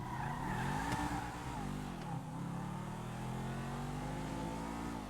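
Video game car engine revving hard with rising and falling pitch and a sharp tire skid near the start, loud and continuous for about five seconds with no talking.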